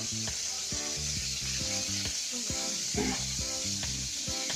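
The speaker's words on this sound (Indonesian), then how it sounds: "Jadi nanti pas bawang putih, bawang merah yang lainnya ditumis, nggak lengket di apa ya namanya ini ya, panci, katel" Garlic and shallots stir-frying in a wok, with steady loud sizzling and hissing and the scrape of a spatula stirring repeatedly throughout, no voices.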